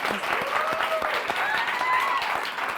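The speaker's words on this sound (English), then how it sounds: "So let's everybody just give us applause." Group applause from an audience at a talk, a fairly busy patter of clapping at moderate level, with a few whistles and cheering voices rising over it.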